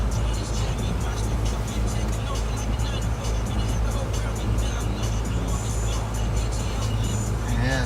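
A car drives slowly through snowy Seattle streets during a heavy snowstorm, with a steady, close engine and road rumble filling the cabin and occasional higher tire and traffic noise.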